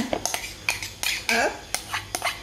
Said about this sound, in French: dans un saladier, on va mélanger nos épinards